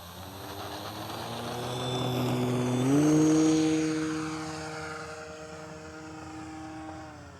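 An RC model airplane on a flight test in somewhat windy conditions, its electric motor whine swelling as it passes nearby and then fading away, a clear steady drone with a pitch drop and no voices.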